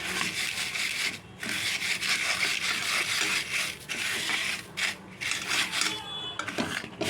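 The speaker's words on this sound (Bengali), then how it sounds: "নিয়ে একটা চালুনিতে এমন করে চালবে। আবার একটু এরকম হাত দিয়ে নেড়ে নেড়ে করবেন।" Crushed dried shrimp being shaken and rubbed by hand through a sieve to separate out sand, giving a steady, close, gritty rasping and rustling that continues with brief dips and no talking.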